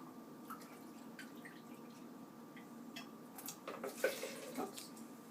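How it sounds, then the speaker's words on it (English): Filtered water poured into a blender holding almond meal, a soft liquid trickle with light splashes that builds and spatters toward the end, moderately close and fairly quiet over a steady background hum. "pour that back into the blender"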